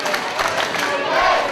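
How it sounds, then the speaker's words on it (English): A wrestling crowd cheers for Dragon Kid in a steady, dense roar of voices and shouts that stays loud and unbroken throughout. "Crowd definitely getting behind Dragon Kid here."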